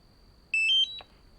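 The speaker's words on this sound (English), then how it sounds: "Hear your beep." A DJI Mini 4K drone controller powers up with a quick rising series of four short, clear electronic beeps, close and bright against near silence.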